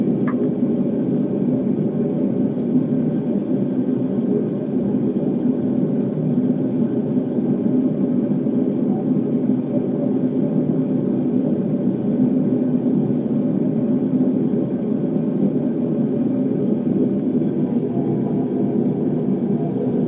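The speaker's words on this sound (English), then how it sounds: "I'm sorry for the furnace noise in the background." A melting furnace for pouring silver runs continuously as a steady, low rumbling roar with a faint whir. It stays even and unbroken throughout and is heard alone.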